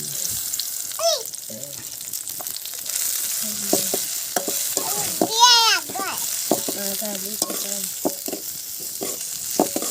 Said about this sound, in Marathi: पूर्ण लाल होईपर्यंत कांदा आपल्याला भाजून घ्यायचा